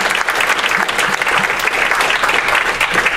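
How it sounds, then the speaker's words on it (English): Loud, sustained applause from a large audience at a vice-presidential debate at Saint Leo University fills the whole stretch, dense and continuous with no voices standing out. "One more time, a round of applause, please, for our two vice presidential nominees, Castillo and Senator Johnson."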